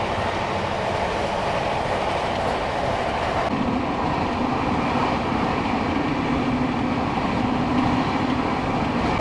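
The Black Diamond Express, a passenger train with new LHB coaches, running at 130 km/h, heard as a steady, loud, continuous rumble of wheels and carriages with no voices.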